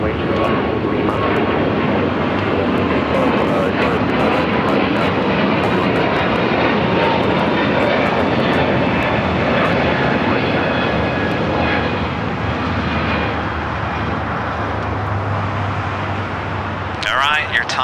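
An airplane takes off from a runway at LAX with a loud, sustained engine roar that holds steady the whole time, while air traffic radio voices talk over it.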